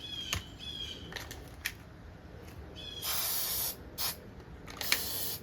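Short hissing bursts of spray adhesive glue, applied while repairing a Toro GTS snowblower with a 6 HP Briggs Quantum engine; a couple of longer sprays follow quick puffs, close and fairly quiet.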